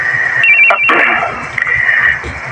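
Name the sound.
phone ringing during a call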